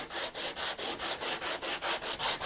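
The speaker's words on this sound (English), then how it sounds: "I'm gonna grab my hard sanding block. I got 80 grit on this thing." Rhythmic back-and-forth rasping of 80-grit sandpaper on a hard sanding block against an electric guitar's wooden body, about ten even strokes, steady and close.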